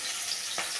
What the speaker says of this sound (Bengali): এখানে আমার রসুন আর পেঁয়াজ আছে, এই তেলটাকে দিয়ে দেবো।